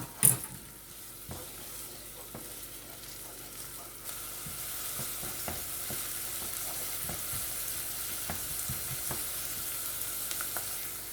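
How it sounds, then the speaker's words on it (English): Chopped garlic sautéing in a pan for chickpea curry, a soft steady sizzle that swells after a few seconds, with scattered light clicks and taps of stirring close by and no talking. "add in 3 cloves of garlic, chopped garlic. I'm going to allow that to saute until it's fragrant."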